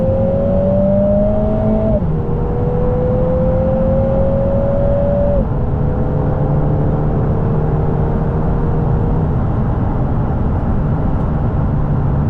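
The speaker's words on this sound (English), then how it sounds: "I'm going to put it into sports mode, and then you'll hear the engine tone change" A Lotus Emira sports car in sports mode pulls hard through the gears, its engine note climbing steadily, dropping at each quick upshift around two and five seconds, then settling into a sustained loud drone with road rumble underneath.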